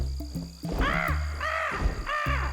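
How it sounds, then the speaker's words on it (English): A crow-like bird caws three times in a steady sequence, fairly clear and alone, each call a harsh, slightly arching croak, with no talking. "I think I hear Mama Bird."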